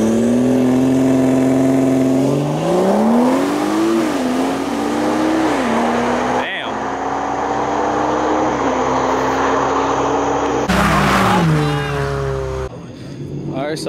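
A BMW 240 and an Infiniti Q50, one running JB4 and intakes, accelerate hard in a street race, their loud engines climbing steadily in pitch close by, then cutting sharply near the end.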